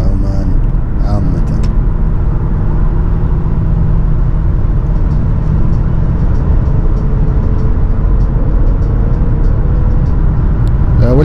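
A 2012 Lexus LS 460 driving along Sultan Qaboos Street in Muscat, Oman, its engine and tyre roar a loud, steady rumble heard from inside the cabin, with a faint tonal whine, no speech.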